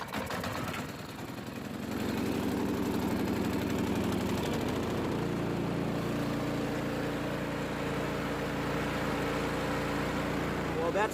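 A Husqvarna snow blower engine in snowy Fairbanks, Alaska, cranks with a rough clatter, then catches and settles into a steady, droning idle that continues to the end.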